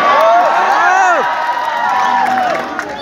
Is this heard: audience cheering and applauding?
yes